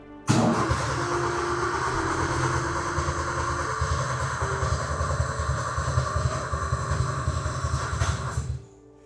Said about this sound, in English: This engine has not been started in 2 years.